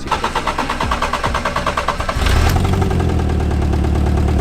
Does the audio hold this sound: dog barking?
no